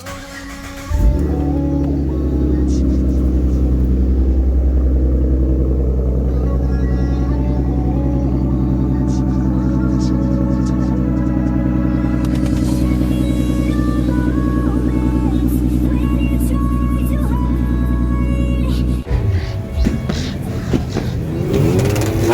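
A loud S550 Mustang with a 3.7L engine revs hard and holds a steady, rumbling high-rpm roar for about eighteen seconds before dropping back, heard close with no talking.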